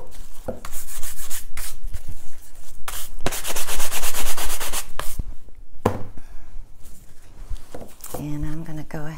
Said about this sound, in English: Try not to rub too hard with your brush.